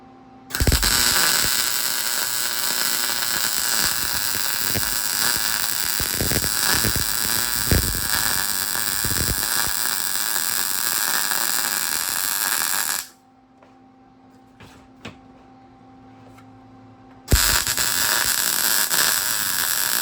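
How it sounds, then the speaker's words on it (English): Welding on a 1964 Comet wagon: a loud, steady hissing buzz that runs for about twelve seconds, stops for a few seconds of quiet, then starts again just as strongly. "get ready to weld it"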